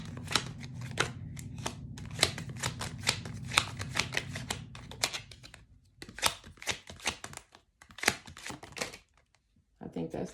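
Tarot cards shuffled and drawn during a reading, a run of quick crisp riffling snaps and flicks, close up, followed by sparser card handling with gaps, a hum underneath at first.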